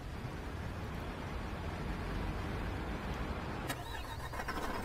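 An orange garbage truck engine in Cityconomy starts up and idles at a steady, fairly quiet low rumble, with a brief clatter near the end.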